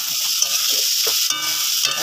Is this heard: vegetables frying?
yes